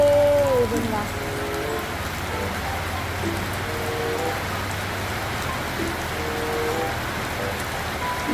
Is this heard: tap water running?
no